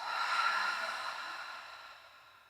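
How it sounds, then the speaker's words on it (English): A slow, deep cleansing breath exhaled through the mouth during a yoga class, a soft airy whoosh that swells quickly and then fades steadily over a couple of seconds, close and quiet with no talking. "Deep inhale through the nose. Exhale out through the mouth."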